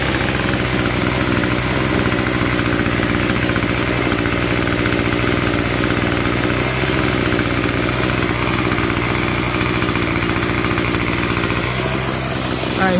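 A 25cc Craftsman string trimmer engine runs steadily at a constant, loud, buzzing idle throughout, with no pauses.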